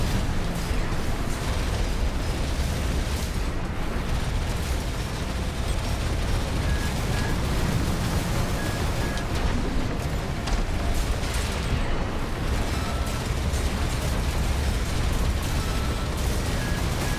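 Indirect missile strikes in Armored Core VI pound away in a continuous roar of explosions and mechanical rumble, loud and unbroken throughout with no voices.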